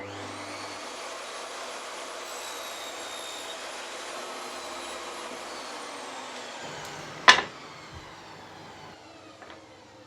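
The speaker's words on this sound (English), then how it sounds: "I'm going to cut some wood down for the front and the back" A power saw whines steadily at close range while cutting wood pieces, then spins down as the cut ends, followed by a sharp knock and a few small clatters.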